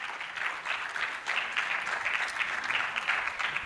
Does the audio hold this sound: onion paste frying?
no